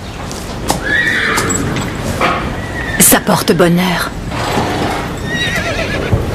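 A horse at a French riding competition whinnies loudly and close, a rising-and-falling neigh amid the clip-clop of hooves, with people speaking French over and around it.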